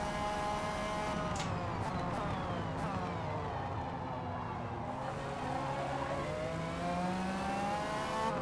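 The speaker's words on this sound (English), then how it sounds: "we'll be able to get accelerating out of the corners quicker" Engine of an early BMW LMP prototype race car in a racing game at Road America, steadily droning and rising in pitch as it pulls out of corners, moderately loud and continuous.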